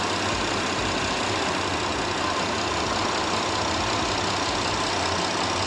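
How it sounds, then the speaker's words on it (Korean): A Porsche Panamera 3.6 AWD (970) engine idles steadily with a low, even rumble and faint mechanical knocking, continuous and close throughout, with no voices. "엔진 소리 일정하고 좋습니다"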